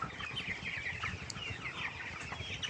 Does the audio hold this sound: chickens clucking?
yes